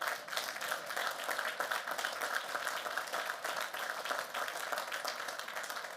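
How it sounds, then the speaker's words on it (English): Sustained applause from a large outdoor crowd at the U.S. Military Academy at West Point Class of 2024 graduation ceremony, steady, dense clapping at moderate distance, continuing evenly throughout. "You can clap for that."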